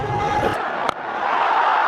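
A packed cricket stadium crowd of close to 120,000 cheers loudly in a broad, roaring swell, with a sharp slap-like crack partway through and the noise rising again afterward.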